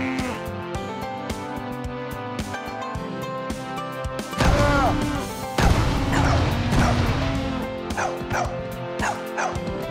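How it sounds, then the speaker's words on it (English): A dog barks in an Xbox Live indie video game, a few sharp barks over game sounds, with a loud crash and short yips following. "Oh yeah, man, that was a dog right there."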